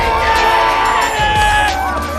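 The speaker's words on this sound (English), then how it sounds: "The crowd cheered." A movie crowd cheers as a giant ark survives a tsunami near Mount Everest, a loud mix of shouts and whoops rising and falling with a swelling score underneath.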